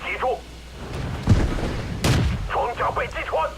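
Two heavy tank cannon shots boom in a World of Tanks battle, spaced under a second apart, loud and close with short rumbling tails, while someone talks before and after them.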